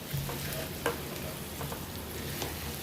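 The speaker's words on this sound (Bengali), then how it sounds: "এটাকে মানে ভাজতে ভাজতে কড়া ভাজবো আর কি" Chicken pieces with turmeric, salt and cumin fry dry in a pan, making a steady, moderate sizzle broken by a few light scrapes and taps of a stirring spoon, with no voices.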